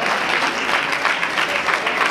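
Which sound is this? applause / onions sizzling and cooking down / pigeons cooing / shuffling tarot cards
applause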